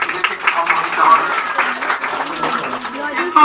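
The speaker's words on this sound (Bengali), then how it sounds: "আপনারা হাততালি দিয়ে এদেরকে একটু সম্মানিত হবে" Audience clapping at a school students' Durga Puja felicitation function breaks out as a gift is presented, a dense patter of claps running throughout beneath a loud voice talking over it.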